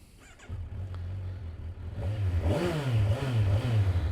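Kawasaki Versys 1000 SE motorcycle engine idling, then revving up and down in several rising and falling swells, loud and close, with no talking.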